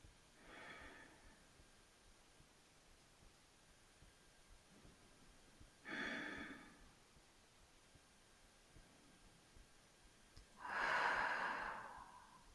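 Slow yoga breathing during a beginner hip-opening session: three soft, unhurried breaths spaced several seconds apart, the last one the fullest, close and quiet with no talking.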